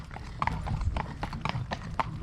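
A horse walks on a firm surface, its hooves clip-clopping in a steady, fairly close rhythm, with a faint background murmur.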